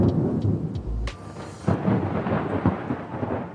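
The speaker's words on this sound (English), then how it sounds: "Still, hear that distant thunder." Deep rolling thunder rumbles from afar over a soft hiss of rain, with one heavier boom swelling in the middle before the storm settles back into a low, steady roar.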